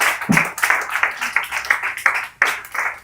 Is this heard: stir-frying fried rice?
no